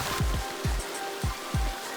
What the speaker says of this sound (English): It's been raining for like an hour.